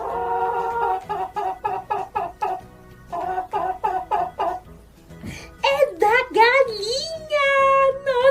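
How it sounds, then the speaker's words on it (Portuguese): Chicken clucking: two bursts of quick, rhythmic clucks in a steady series, then louder, longer rising and falling calls close by that sound like crowing. "Galinha!"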